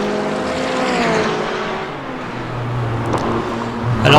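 GT4 race car at Spa passing a McLaren, a loud close engine whine climbing through the gears over a steady roar, with another car's lower drone joining partway through.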